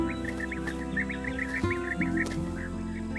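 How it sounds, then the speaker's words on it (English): Bee-eaters in the Dolomites give a rapid run of short, rolling chirps, repeated evenly at moderate distance over sustained low instrumental music. "Bee eaters."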